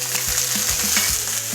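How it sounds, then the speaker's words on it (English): Meat browning in a hot pan sizzles loudly and steadily, close up, with a few soft clanks and stirring knocks over the continuous frying hiss. "Love the sound of that sizzle in the morning."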